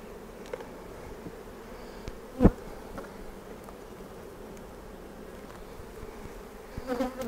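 Honey bees massing at a double brood chamber hive entrance make a steady, dense buzzing drone throughout, with a sharp knock near the middle and a few louder stirrings toward the end, no voices.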